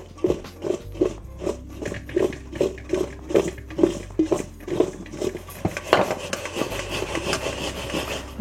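Paneer is stirred together with ground spice powders in a bowl, giving a rhythmic run of close scraping, rubbing strokes at a steady pace, growing a little busier toward the end.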